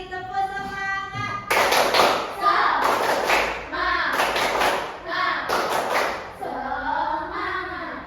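A class of children standing and doing a rhythmic spirit clap, loud sharp claps and thumps in short bursts alternating with an adult voice speaking between them.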